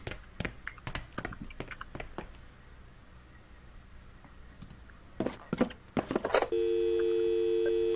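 A telephone in the video game The Dream Machine, heard as a scatter of clicky button taps and short tones before a steady, sustained phone tone sets in and holds loud to the end.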